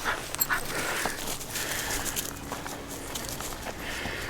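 A dog pants with quick, steady breaths on a warm day during an uphill outdoor walk. Rustling footsteps and broad outdoor noise run throughout at a constant level.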